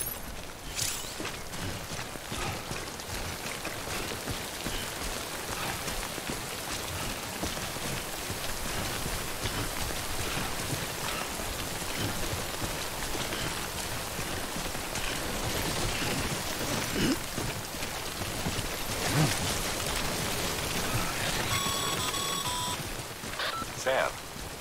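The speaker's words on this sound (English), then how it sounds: "Don't stay out in the rain any longer than you have to." Rain in the video game Death Stranding falls as a steady, full hiss through the whole stretch, with a few faint electronic beeps and tones rising over it near the end and a voice speaking at times.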